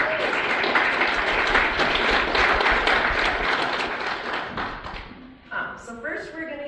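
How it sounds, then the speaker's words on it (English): A group gives a hearty round of applause at a meeting, loud sustained clapping with some thumps that tapers off after about five seconds before a voice starts speaking. "So a round of applause for you"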